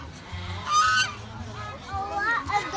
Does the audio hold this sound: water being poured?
no